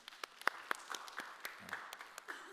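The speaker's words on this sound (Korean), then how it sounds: "박수 합시다." A church prayer-school audience claps to welcome a woman volunteer: scattered, light hand claps, fairly faint and sparse rather than a full ovation, with a few sharper individual claps and a brief murmur of voices.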